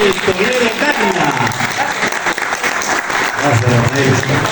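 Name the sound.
audience applause for Rafael Toledo Cárdenas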